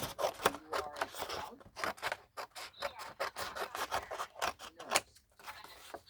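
Scissors snipping through paper being trimmed for a notebook cover, a quick series of sharp crisp cuts with rustling between them, close and clear, with no talking.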